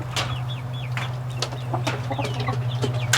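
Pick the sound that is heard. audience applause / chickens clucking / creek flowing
chickens clucking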